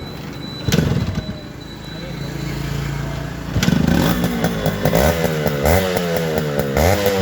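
A two-stroke Yamaha RX 100 motorcycle in good condition is started, its engine catching with a sharp burst and settling into a buzzy, revving rattle close by, with a brief voice near the start.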